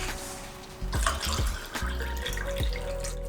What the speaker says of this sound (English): First, we'll pour some coffee.